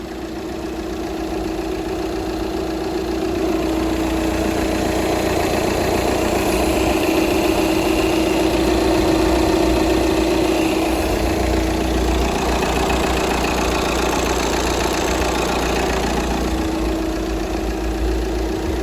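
An Audi A4 2.0 TDI EA189 diesel engine idling steadily, a continuous low rumble with a faint rattling knock throughout.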